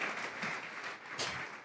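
A church congregation gives a brief burst of steady, dense applause, a fairly quiet wash of many hands clapping together.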